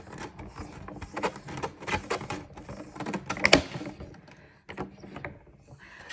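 A die cutting machine being cranked by hand to press a deep etch die through material, giving uneven clicks, creaks and mechanical knocks at low level, with one sharper clatter midway and quieter gaps between.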